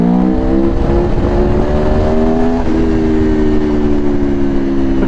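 A 2021 Aprilia Tuono Factory V4 motorcycle accelerates hard off the throttle without the clutch, its loud, close engine note climbing steadily in pitch, with a brief dip and recovery midway as it pulls on.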